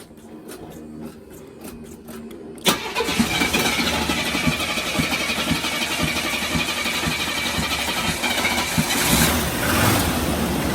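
A 1986 Pontiac Bonneville with gas poured into the carburetor is cranked, with faint ticking first, then an abrupt loud catch into a steady, rough running engine drone that continues to the end.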